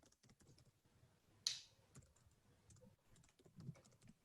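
Computer keyboard typing during an online webinar, a run of quick soft key clicks with one sharper click partway through, fairly quiet and close with no talk.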